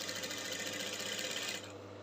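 A sewing machine hums steadily while stitching a seam on a corset cape, a close, continuous motor whir that eases off near the end.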